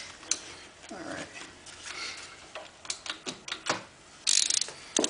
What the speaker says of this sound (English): Kind of hard to fit in there with this torque wrench, but we'll get it.